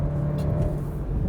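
A base Porsche Macan with a four-cylinder engine accelerating in sport mode, a loud, steady engine drone and road noise heard from inside the cabin.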